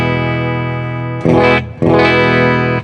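An electric guitar played clean through an effects pedal with a bright, sparkling tone: a sustained ringing chord, then two strummed chords in quick succession, close and fairly loud.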